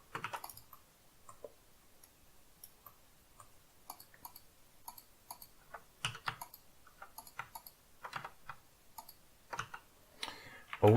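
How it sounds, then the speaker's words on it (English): Irregular clicking on a computer keyboard while 3D modelling in Blender, with quick light taps and short bursts spread across the stretch, fairly faint and close, with no talk over it. "Always hitting with the wrong keys"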